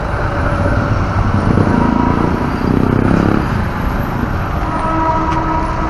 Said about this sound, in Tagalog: Oh, ayun, may train oh. May train, may train.